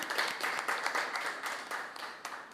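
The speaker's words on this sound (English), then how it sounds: "Let's clap them too." A debate audience claps for the opposing team, a moderate, fairly distant patter of many hands lasting the whole moment.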